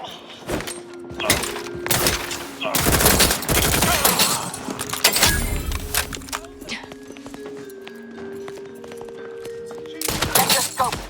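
Heavy gunfire from the video game The Outer Worlds 2: bursts of shots and rattling volleys alongside clattering impacts, loud and close, with intermittent tones and voices.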